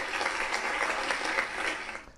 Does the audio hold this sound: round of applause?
yes